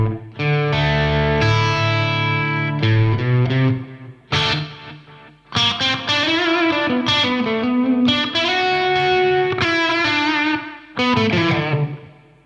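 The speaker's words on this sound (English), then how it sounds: "And then I'll blend in the delay." Distorted electric bass tone for a song with a delay effect blended in, played as phrases of sustained notes with gaps and echoing repeats, loud and alone.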